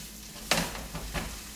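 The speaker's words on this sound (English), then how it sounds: "Stir it around so that the tofu gets coated with a little bit of oil." Tofu stirred in oil in a pan, a soft sizzle with one sharp scraping stroke and a couple of fainter stirring sounds, close and brief.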